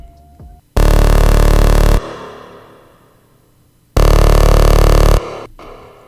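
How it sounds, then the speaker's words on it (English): Two sustained buzzy synth bass notes made by FM between two saw waves in Serum, unfiltered, each held about a second and loud, separated by a gap with a fading tail. "So pretty much exactly what you'd expect from FMing 2 saw waves"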